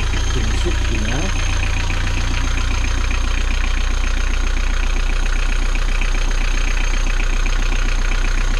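An inboard boat engine under a lifted floor panel is started with a push button, cranking briefly before settling into a steady, loud, close idle with an even rapid chugging rhythm that runs to the end.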